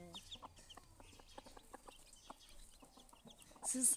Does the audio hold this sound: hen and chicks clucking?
yes